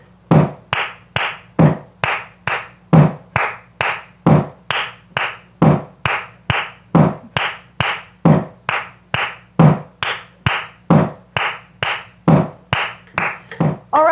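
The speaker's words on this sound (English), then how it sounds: "Clap along with me to the rhythm of 3s." Hand clapping in a flamenco lesson, sharp close claps repeated in a steady grouped pattern of threes, about two per second, loud and alone with no talking.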